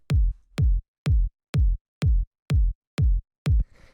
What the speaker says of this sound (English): the first sound that we have here is the kick